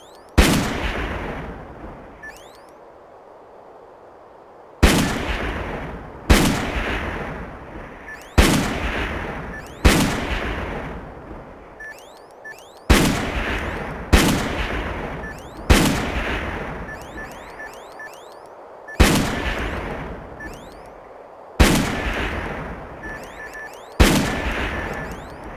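Heavy gunfire in the video game Darkest of Days: about a dozen loud, booming cannon-like shots at uneven intervals of one to three seconds, each trailing off in a long echoing decay.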